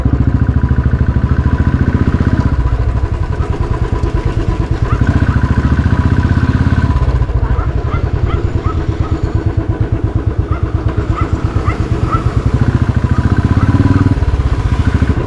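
A scooter passing by near a cricket outing: a steady, loud putter of a small engine throughout, with faint clatter and no clear talking.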